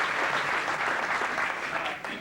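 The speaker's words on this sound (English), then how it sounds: "I'd like a round of applause." A high school football banquet audience gives a full, sustained round of applause, many hands clapping evenly and close throughout.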